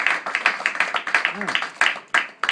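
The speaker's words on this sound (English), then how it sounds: "Let's just feel our applause for God." Guests clapping at a wedding ceremony, a loose run of fairly close individual claps with uneven rhythm, mixed with a brief vocal sound partway through.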